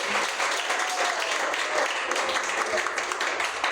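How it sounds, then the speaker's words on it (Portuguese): A church congregation applauds at the close of a prayer during a sermon, steady clapping that fills the room, with a voice talking faintly underneath. "as palmas vão para Deus"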